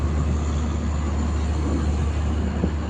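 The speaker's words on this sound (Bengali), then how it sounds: "আর এদিকে দেখুন এক্সপ্রেস ট্রেনটা চলে যাচ্ছে, মুম্বাই থেকে আসলো ট্রেনটা।" A red express train from Mumbai pulls out of a station with a continuous low rumble and drone that stays steady and fairly close, with no talking.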